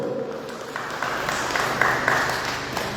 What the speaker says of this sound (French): Je demande au public d'applaudir encore une fois son Excellence